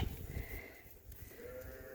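Sheep on a cold, windy farm bleat in a wavering, drawn-out call over steady wind noise and low rustling, one or two animals fairly near.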